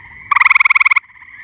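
A gray tree frog at a pond in mid-spring gives a loud, rapid pulsing trill lasting under a second, close by, against a quiet background with faint calls after.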